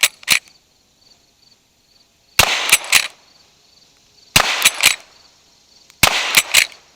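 An 1873 lever-action rifle fires .38 Special rounds: sharp, loud cracks come in clusters of three or four close impulses, likely shots with action and casing clatter, separated by quiet gaps with faint insect chirping outdoors.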